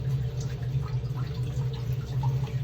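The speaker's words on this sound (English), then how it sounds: "let's drain the rest of the water" Water drains from a leaf casting vat with faint, scattered trickles and drips over a steady low mechanical hum that runs throughout.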